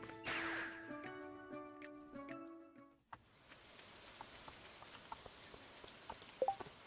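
Rain patters softly in the video game Stardew Valley, a faint steady hiss with scattered drips, preceded by a few seconds of chiming game music that cuts off abruptly.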